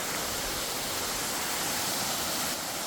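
Waterfall on a low-running river in Maine, giving a steady, close, full-bodied rush of falling water with no breaks or voices.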